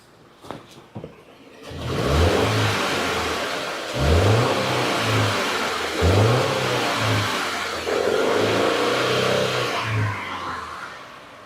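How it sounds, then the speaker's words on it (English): A 2015 Subaru Forester engine is snapped through quick throttle blips during an inspection, rising in a series of four loud revs that each climb and fall back, with a brief mechanical rattle before the first. "I'm going to try the snap throttle again"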